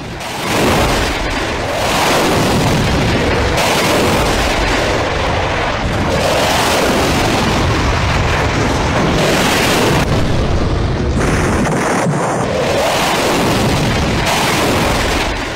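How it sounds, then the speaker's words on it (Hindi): Booming blasts and explosion-like bursts from missile fire by a Rafale fighter jet, tied to a military strike; dense, loud and continuous for the whole stretch, rumbling heavily with repeated surges and no speech. "कुछ इस तरह रफाल ने मिसाइल फायर की"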